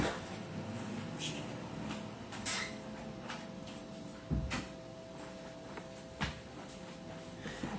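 An office door is pushed shut, giving a soft thump and a few light knocks over a steady rumble from a truck idling outside.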